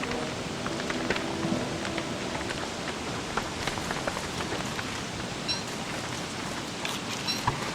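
Rain falling in the video game Don't Starve Together: a continuous wash of patter with scattered sharper drop ticks and faint soft steps, steady and alone without talk.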